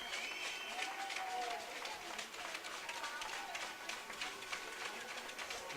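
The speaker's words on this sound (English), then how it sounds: "The fans here applaud both teams" Hockey fans in the stands applaud both teams after a semi-final game, Calgary vs South East. The clapping is broad and crowd-wide, a steady patter of many hands under a speaking voice.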